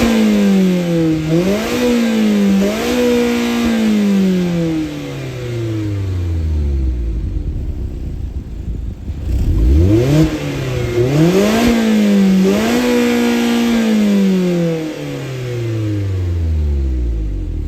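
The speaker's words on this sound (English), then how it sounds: "Now I think that's pretty impressive for a 2-liter naturally aspirated 4-cylinder, especially in sport mode." A 2025 Mazda MX-5 Miata RF Grand Touring's 2-liter naturally aspirated four-cylinder engine revs repeatedly in sport mode, climbing and dropping in pitch through several loud, close blips with a lull in the middle.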